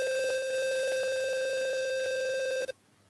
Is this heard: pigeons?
no